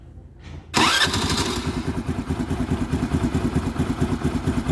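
A Honda Activa scooter engine, with a freshly cleaned spark plug, cranks briefly, then catches and settles into a loud, steady, rapid putter, close by with no talk.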